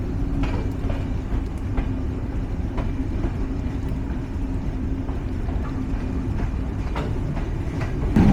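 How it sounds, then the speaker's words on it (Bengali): Silk City Express train rolling from Ibrahimabad toward Dhaka in heavy monsoon rain, a continuous dense rumble and broadband wash with faint rhythmic clicks, steady and loud throughout. "চলুন এখন আমরা উপভোগ করি এই ঝুম বৃষ্টি এই ট্রেন জার্নির সাথে"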